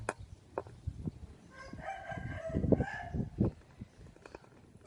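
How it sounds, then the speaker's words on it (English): A rooster crows outside an apartment in Siem Reap, Cambodia, one drawn-out call at moderate distance, mixed with scattered clucks and faint background sounds. "Of course you can hear the chicken, can't you, or the rooster."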